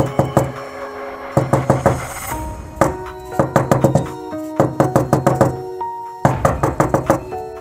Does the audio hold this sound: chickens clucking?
no